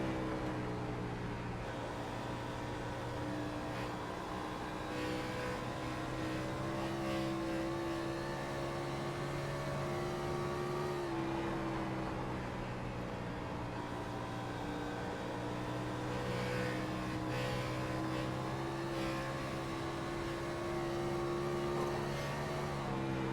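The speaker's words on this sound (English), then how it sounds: "Let's watch him wheel this car from the in-car cockpit." A race car engine heard from inside the cockpit in an oval stock car racing game at Dover, a steady loud droning hum with slight rises and falls in pitch throughout, no letup and no voices.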